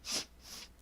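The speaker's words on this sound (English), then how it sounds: "We're going to take some short inhalations." Two quick, sharp sniffing inhalations through the nostrils during a gentle wake-up yoga breathing exercise, close and soft, the first stronger than the second, with no speech.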